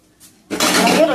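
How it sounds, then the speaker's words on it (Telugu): Cooking pots are set down for steaming over a damp cloth while making aviri kudumu, giving a sudden burst of metallic clatter and scraping, close and loud, after a faint quiet start. "పాత్రలు పెట్టేయాలండి."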